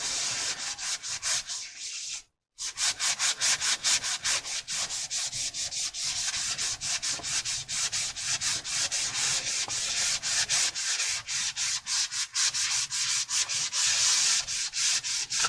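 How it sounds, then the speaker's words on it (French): Foam side of a sponge scrubs a dirty surface clean with rapid back-and-forth strokes, a dense steady rubbing hiss that pauses once briefly early on, close and loud, with no speech. "c'est le côté un peu mousse qui frotte"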